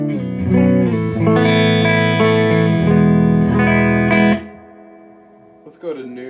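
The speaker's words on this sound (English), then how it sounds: "The reverb on this amp sounds fantastic." Electric guitar played through a Mesa Boogie California Tweed amp with reverb, sustained chords and notes ringing loud and close for about four seconds, then decaying into a quiet tail with a brief pluck near the end.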